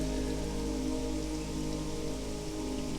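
Heavy pouring rain in Burpengary, a dense, constant hiss and patter of drops drumming on surfaces, loud and steady throughout with no voices.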